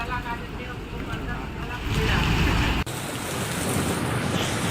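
Heavy, steady rain pouring down in news footage, a loud broadband hiss that swells midway, with a brief sharp break near the end, no clear talking over it.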